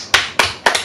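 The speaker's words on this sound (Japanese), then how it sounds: "拍手" A few sharp, close hand claps sound in quick succession, three distinct bursts with a double clap at the end, crisp and alone.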